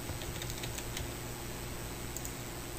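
Rapid, light clicking of keys being typed on a computer keyboard, close and steady over a constant background hiss.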